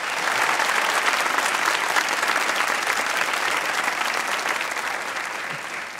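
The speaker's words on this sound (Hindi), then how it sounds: "तालियां होनी चाहिए इस बात पे" Studio audience applause on a comedy talk show, a thick, even wash of many clapping hands that holds steady throughout and fades gently near the end, with no clear talking over it.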